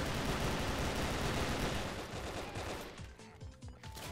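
Dense, continuous gunfire in the blocky shooter game Brick-Force during a team deathmatch, loud and close, with rapid overlapping shots that thin slightly into distinct bursts toward the end.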